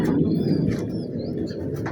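Pigeons cooing near a net where many perch, low soft repeated coos filling the clip with a few faint chirps above.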